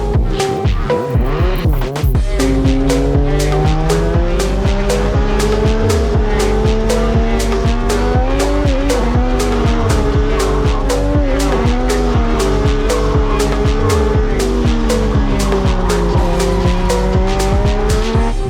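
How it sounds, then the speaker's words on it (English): Legend race cars lap the Misano circuit during free practice. The engines drone loudly and continuously, rising and falling in pitch as the cars accelerate and shift, and tires squeal repeatedly. The sound stays close and intense throughout. "find out how these Legend cars go in Misano"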